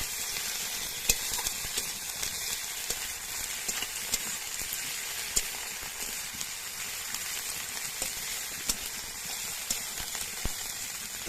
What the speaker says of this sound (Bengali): আদাটা দিয়ে দিয়েছি, এবার আদাটা ভেজে নেব।